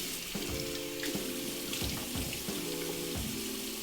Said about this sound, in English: I'm gonna go ahead and rinse this off.